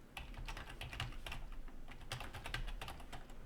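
Rapid, quiet typing on a computer keyboard while entering data in an estimating program, a steady run of close key clicks alone in a still room.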